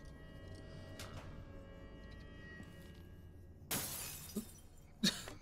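Glass smashing in Dishonored: Death of the Outsider, a sharp shattering crash followed by a smaller tinkle of falling shards and a second crisp break, heard alone against a quiet in-game background.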